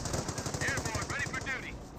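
Rapid, rhythmic bursts from a .30 cal machine gun in the strategy game Company of Heroes, a steady chattering rattle at moderate distance under someone talking.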